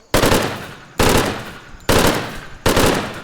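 Four heavy, evenly spaced single gunshots from weapons in the open-world survival game Wild Mutation, each loud and close, with a decaying reverberant tail.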